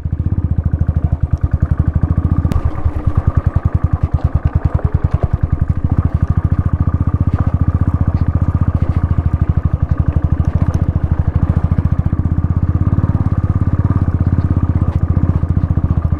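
A motorcycle rides along a dry, rocky stretch of the Sach Pass mountain road, its engine thumping in a steady, rapid rhythm, loud and close for the whole run, with no talk.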